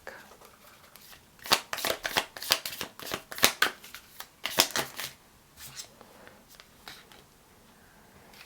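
A deck of tarot-style reading cards is shuffled by hand, producing irregular bursts of crisp riffling and flapping with short quiet gaps, close and fairly soft.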